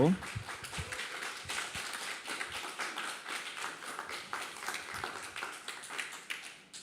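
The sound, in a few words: audience applause welcoming guests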